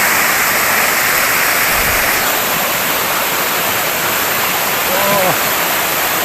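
A waterfall in a mountain valley in the Phu Langka range, a loud, steady, full rushing roar of falling water that stays constant throughout with a faint voice briefly audible in the background.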